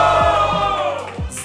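A rap battle crowd roars for the winner: a loud, close burst of shouting and cheering voices blended together, with a few higher whoops rising near the end.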